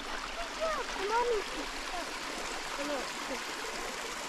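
A mountain creek near Cloudcroft, New Mexico, flows with a constant soft rush and trickle, moderately close, while a few bird chirps rise briefly above it.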